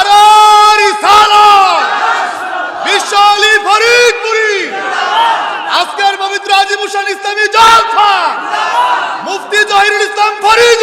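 A large crowd at a religious gathering chants the Naraye Takbir response in loud, unified bellowing waves. The call-and-response repeats several times and fills the whole stretch.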